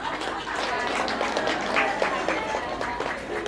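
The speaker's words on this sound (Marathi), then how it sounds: "एकदा टाळ्या होऊन जाऊ द्या" Guests applaud at a Buddhist baby shower, with a crowd's scattered claps running steadily at moderate volume while voices talk over them.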